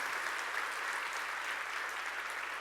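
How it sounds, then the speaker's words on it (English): Audience applause fills a conference hall, a steady, dense clatter of many hands clapping throughout, moderately loud and continuous with no talk over it. "A huge round of applause, please."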